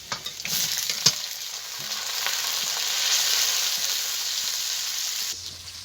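Capsicum and onion sizzle steadily in a hot pan with garlic for a chilli soybean dish, a loud continuous fry with a few sharp clacks of stirring near the start.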